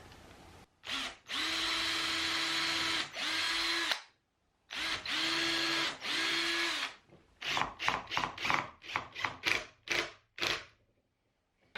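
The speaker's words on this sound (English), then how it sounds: "I'm going to go ahead and pre-drill so I don't end up cracking any of this" A power drill whirs in several sustained bursts, then a run of quick short pulses as holes are pre-drilled for a camera gantry build, close up with quiet gaps between.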